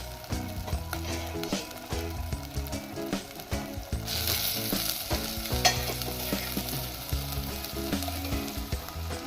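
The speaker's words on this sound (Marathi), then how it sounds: "आता आपण त्यात आपण जी वांगी उकळून ठेवलेली आहे ती टाकायची आहे" Boiled brinjals frying in spiced oil while being stirred, giving a close, busy sizzle broken by repeated scraping and clattering strokes of a spoon against the pan.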